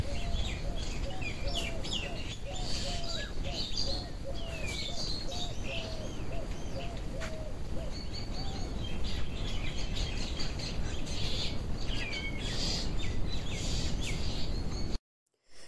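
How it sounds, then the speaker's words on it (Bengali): Birds call and chirp around a rural Bengali home, with doves cooing and small birds tweeting repeatedly over a steady, rough outdoor background that stops abruptly at the end. "এরপরে দেখো পাখিগুলো কি ডাকছে।"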